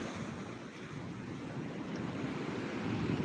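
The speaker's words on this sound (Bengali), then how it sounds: "পুরো একদম জল গার্ডওয়াল টপকে ছিটকে আসছে জল" Rough sea at Digha beach hurling waves over the guard wall, a steady, dense roar of surf and spray with wind buffeting the microphone, continuous and loud throughout with no talking.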